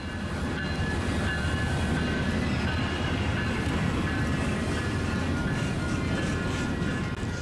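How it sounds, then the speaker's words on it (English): Coaster Train 673 departing Santa Fe Depot, a steady rumbling roll of rail cars with faint clickety-clack from the wheels, continuous and moderately close throughout. "A few minutes later, Coaster Train 673 was cleared to depart Santa Fe Depot."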